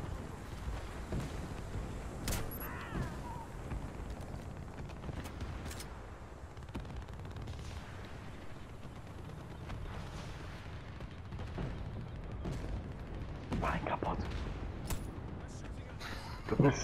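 Gunfire in the shooter game Warface, with sharp shots scattered across the stretch, some in quick bursts, under wind and ambient noise, while players talk throughout.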